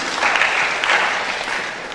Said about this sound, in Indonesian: Tepuk tangan buat Pak Atmaji